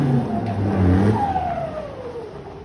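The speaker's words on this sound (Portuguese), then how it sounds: "Vou postar aqui pra vocês agora o escapamento que foi instalado nessa caminhonete." A Ford Ranger 3.2 pickup with a straight exhaust revs hard up close, a deep throaty engine roar that rises and then sweeps down as the revs fall away.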